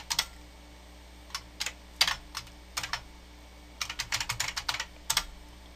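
Computer keyboard keys clack in quick, irregular bursts of typing close by as a sudo service Apache restart command is entered on an Ubuntu server, with short pauses between clusters over a faint background hum.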